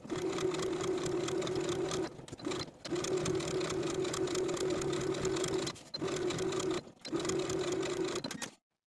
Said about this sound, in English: take these pressed edges to the sewing machine and sew them in place with a 1/2 inch seam allowance